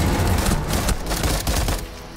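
Sustained automatic gunfire from a weapon in the video game Rainbow Six Siege, a dense continuous burst of shots lasting the whole stretch, loud and close, with no talking over it.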